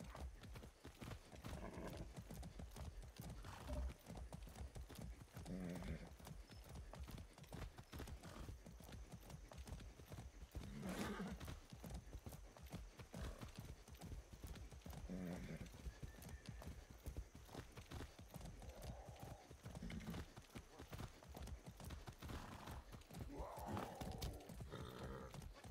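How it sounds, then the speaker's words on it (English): Horse hooves clip-clop steadily in the video game Far Cry 6, a fast continuous rhythm with occasional snorts and whinnies, while a voice talks intermittently underneath. "A good horse."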